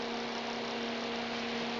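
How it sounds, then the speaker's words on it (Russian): A computer fan powered from a printer's power supply, with a resistor in the circuit, gives a faint steady whir with a constant low electrical hum, no talking. "Вот, вентилятор запитан от блока питания принтера."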